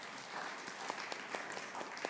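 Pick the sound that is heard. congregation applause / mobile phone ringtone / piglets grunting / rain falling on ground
congregation applause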